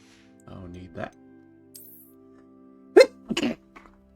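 A sneeze from a character in a Hogwarts Legacy game scene, a sharp burst followed by a brief trailing exhale, heard close amid game dialogue.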